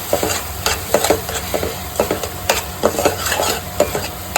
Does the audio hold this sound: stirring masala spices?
yes